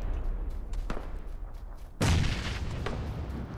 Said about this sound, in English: Chuck a grenade.